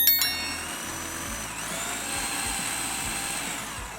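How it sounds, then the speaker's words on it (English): A blender whirs steadily through beetroot hummus ingredients: a sharp click at the start, then a continuous high motor whine with a churning low rumble, loud and close, with no voices. "Now blend till the ingredients are all well combined."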